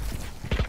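A barrier wall rising in the video game Valorant, a brief mechanical creaking and clunking effect with a few knocking beats near the end, moderately loud and alone.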